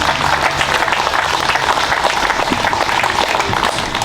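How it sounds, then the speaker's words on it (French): A room full of people at a May 8 commemoration ceremony applauding steadily, a dense continuous patter of clapping at a fairly loud level throughout. "Et on peut l'applaudir aussi."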